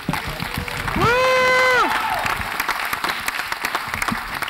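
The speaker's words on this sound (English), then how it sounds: "Round of applause for Paul." A conference audience applauds steadily, clapping filling the whole stretch, while one person lets out a loud rising whoop near the start above the crowd.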